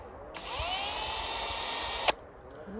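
A high-pitched power drill bores a tap hole in a maple tree, whirring steadily for under two seconds, starting and stopping abruptly, with quiet outdoor background around it.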